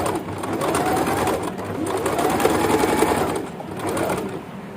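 A Singer sewing machine stitches a narrow rolled hem with a hemming foot, its needle chattering in a fast steady rhythm that swells and eases across the run, close and prominent, with faint bird coos in the background.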